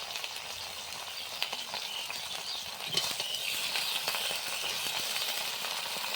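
Chopped colocasia greens dropped into hot oil and frying. Moderate, steady hiss and crackle with a few small clinks and stirring sounds, no talk.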